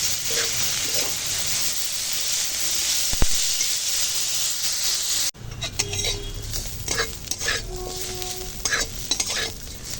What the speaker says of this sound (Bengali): এখন এটা ভেজে নেব পটলের খোসাটা